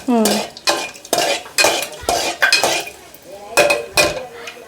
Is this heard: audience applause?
no